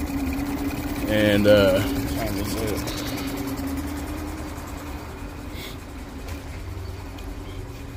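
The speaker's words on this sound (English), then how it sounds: "I've been running this engine for about 5 minutes now" Mercury 20hp EFI four-stroke outboard engine, a 2020 model, idling steadily after repair work, a constant low drone running throughout with someone speaking briefly over it near the start.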